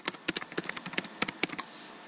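Rapid, uneven clicking of keys on a computer keyboard as text is typed into a presentation slide, close and fairly quiet, with short bursts and a brief pause near the end.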